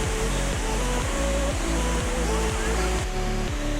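Tagahambing waterfall, a low fall over a wide white-sand bed, thunders with a steady, strong roar of heavy water flow, loud and continuous throughout with no talking.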